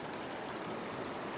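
Cold mountain river water of the Kanchanganga near Palin in Arunachal rushes steadily, a dense, even, close-up flowing roar with no breaks.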